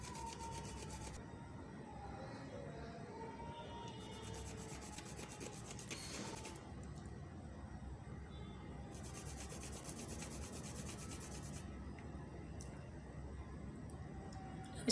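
Continuous soft rasping as nutmeg is rubbed against a rough surface and dipped repeatedly to work it into a paste for homemade nutmeg oil, steady and close with a faint background tone.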